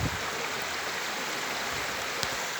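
Constant roaring splash of Huai Chan waterfall in Sisaket province's Khun Han district, its flow still modest, sounds near and unbroken throughout, with a single faint tap near the end and no talking.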